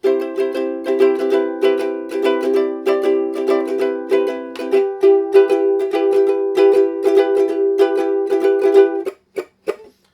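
Guitar strummed with a 2mm high-gloss plastic Dunlop pick, steady rhythmic strokes ringing out close and clear with sustained chords, alone, ending in a few muted final hits.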